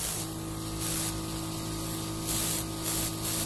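Luminess makeup airbrush sprays water in several short hissing bursts, powered by an air compressor that hums steadily underneath, close and fairly quiet.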